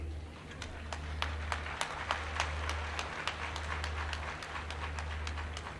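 An audience claps at a student scholarship event in a hall, with scattered, fairly quiet hand claps over a steady low hum and some faint speech underneath.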